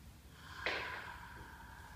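One short, sharp breath in through the nose during a rib cage foam roller exercise, close and soft over quiet background hiss, with no speech.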